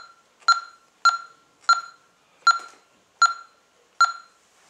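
Honeywell Vista 12a/48a alarm keypad beeps as buttons are pressed, six short identical tones spaced evenly about half a second apart, crisp and close with silence between.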